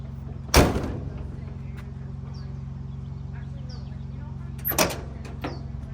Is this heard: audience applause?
no